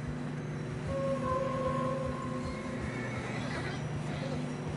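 A horse whinnies in a snowy Red Dead Redemption 2 game scene, a drawn-out neigh over a low steady rumble of movement, with voices talking beneath it.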